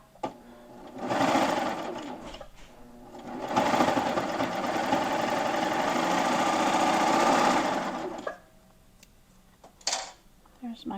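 A serger stitches a cuff onto a shirt in two steady whirring runs, the second longer, with a short pause between them and quiet handling afterward.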